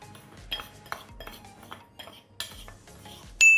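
Utensil stirring fish with a pinch of turmeric powder in a bowl, soft scraping and light clinks in an uneven rhythm, close and quiet, ending with a sharper metallic chink.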